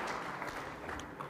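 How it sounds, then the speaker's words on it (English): Audience applause at an African National Congress dialogue event in Gauteng, honouring two veteran comrades; a steady, dense wash of clapping from a crowd, fairly faint and distant, sustained throughout without voices. "let's give them both another round of applause for their lifetime commitment to the struggle"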